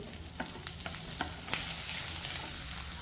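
Cumin seeds dropped into a hot pan of pav bhaji masala set off a steady sizzle, with a few sharp crackles and pops of spitting seeds early on as the frying settles into an even hiss.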